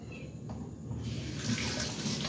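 A tap runs over a peeled onion being washed in a sink, first a thin trickle, then a fuller steady stream of splashing water that stays close and continuous.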